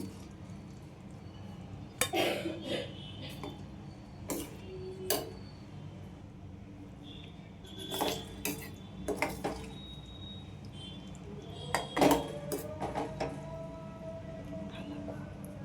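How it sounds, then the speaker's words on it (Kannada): Cooked cucumber palya is spooned from the pan onto a plate, with repeated metallic clinks and scrapes of a spoon against cookware in irregular bursts over a low background hum. "ಇವಾಗ ನಾನು ಒಂದು ಪ್ಲೇಟಿಗೆ ಹಾಕ್ತೀನಿ ನೋಡಿ"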